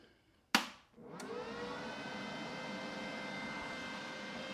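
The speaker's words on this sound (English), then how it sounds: "the fan, once it runs for a minute, that fan should cut off" A Sefaspe MIG200 Pro welder is switched on with a sharp click, then its cooling fan spins up into a steady, fairly quiet whirring hum that holds evenly to the end.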